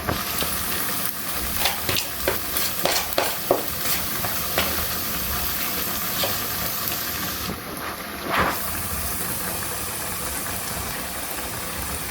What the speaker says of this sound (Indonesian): Pisang goreng Sri Damayanti.